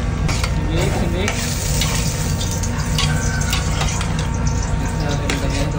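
A chili, soy sauce and brown sugar mixture is stirred in a pan for pork menudo, with loud, close scraping strokes and clatter over a continuous sizzle.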